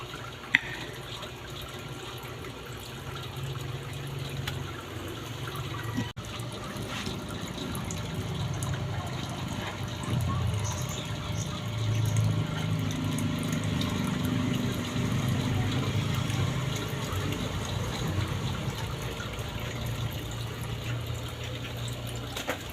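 Water drains out of a Black Thai Oranda fish tank with a low, steady gurgling rush, fairly faint and continuous, with a sharp tap early on and no talking.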